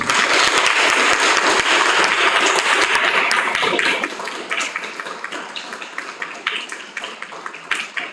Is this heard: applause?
yes